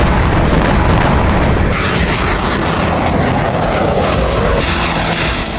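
Heavy booming blasts and rumbling from Russian attacks on Ukraine, a dense, continuous roar of loud explosions and artillery-like thuds filling the whole stretch with no pauses.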